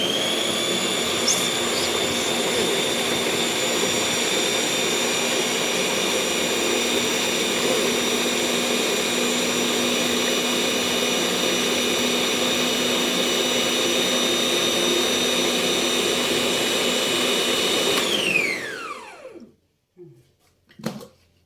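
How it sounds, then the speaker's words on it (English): A blender grinding garlic with vegetables for egg curry runs with a loud, steady whine that holds for about eighteen seconds, then spins down and stops. "Then we grind together with the rest of the vegetables."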